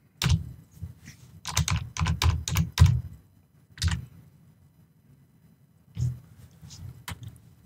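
Close, crisp keystrokes on a computer keyboard come in quick bursts with short pauses, then a few scattered taps toward the end.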